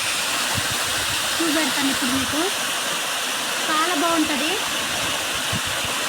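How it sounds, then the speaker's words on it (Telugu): The Gumma waterfall in Ananthagiri mandal roars with a steady, broad rush of falling water that fills the whole clip, while someone speaks over it. "అనంతగిరి మండలంలో ఈ గుంగా వాటర్ ఫాల్స్ ఉంటుంది."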